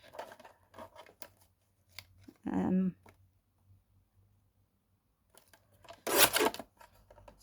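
Scissors cutting 1.5 inch strips for crafting backgrounds, a few separate snipping and rasping bursts close up, spaced by quiet gaps, with one louder cut near the end.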